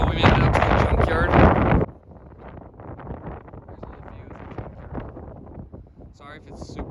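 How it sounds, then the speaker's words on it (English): Strong gusts batter the microphone at an outdoor junkyard of old Datsun trucks, a loud roaring buffet for about two seconds that drops to a steady rumbling wind, with a voice talking near the end. "Sorry if it's super windy."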